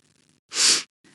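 A single sharp sneeze bursts out close and loud, sitting alone between quiet breathy moments.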